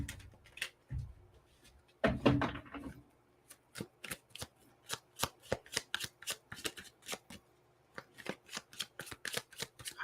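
Tarot cards being shuffled by hand, close up: crisp repeated riffles and taps in quick bursts, with a brief rustle early on and no talking.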